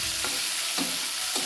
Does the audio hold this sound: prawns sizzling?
yes